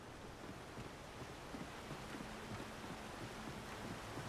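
River water in the video game Alan Wake, a faint, steady rushing wash like surf or wind that carries on evenly throughout with no voices.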